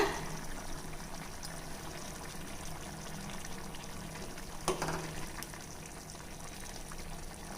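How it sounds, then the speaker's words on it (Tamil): A pot of egg curry with coconut milk bubbling and simmering steadily up close, with a soft clink partway through. "ஒரு அஞ்சு நிமிஷத்துக்கு மேலேயே குழம்பு கொதிச்சிருச்சுங்க"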